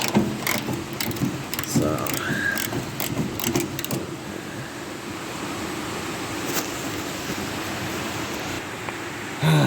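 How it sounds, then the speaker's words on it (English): A wrench, likely a ratchet, works rusted 9/16 fender bolts under the front fender of a GM A-body car, with quick metallic clicks and rattles in the first seconds, then a steady mechanical hum. "we're going to come up under here and pop these 2 bolts out, 9/16, rusted"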